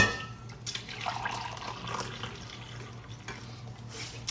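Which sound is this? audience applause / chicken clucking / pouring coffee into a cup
pouring coffee into a cup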